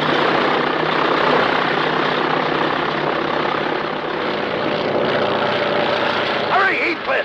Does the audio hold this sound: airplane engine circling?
yes